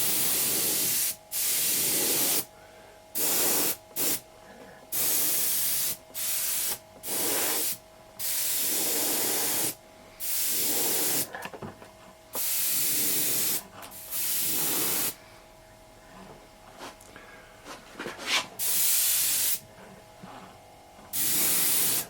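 Matte lacquer sprayed from a can onto a 1/6 scale toy figure in repeated short hissing bursts, each lasting one to two seconds with brief pauses between, close and fairly loud.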